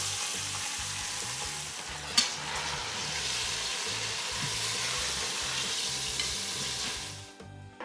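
A pork roast sears in about 1.5 tablespoons of grapeseed oil inside an Instant Pot, giving a steady, dense sizzle that holds evenly, with one small clunk partway through before it fades at the end.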